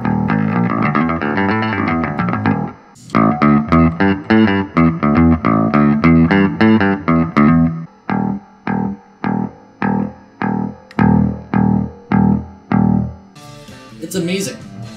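A Rickenbacker 4003S electric bass played through its full-spectrum treble pickup, with loud, steady riffs of plucked notes, first sustained and dense, then a run of evenly spaced staccato notes, ending with a brighter strummed passage.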